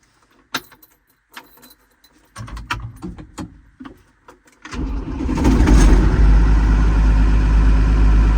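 A Claas Dominator 86 combine harvester with a six-cylinder Perkins engine is started after a few clicks and a cranking burst, then catches and settles into a loud, steady, close idle.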